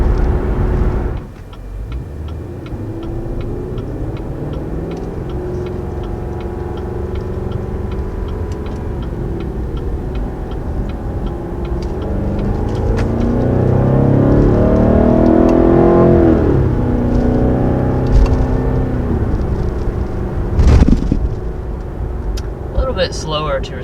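A 2020 Cadillac CT6-V with the Blackwing V8 and a 10-speed automatic revs quickly from inside the cabin. The engine note climbs and swells to a loud peak around the middle, then eases off, with faint ticking underneath.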